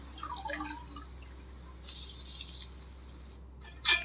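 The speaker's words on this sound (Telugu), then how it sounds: "ఇదిగోండి నీళ్ళు అనేవి తెరులుతున్నాయి" Water comes to a boil in a cooking pot for Telangana-style bagara rice, giving off soft, scattered bubbling pops and light dripping sounds, quiet throughout, with a brief louder clatter near the end.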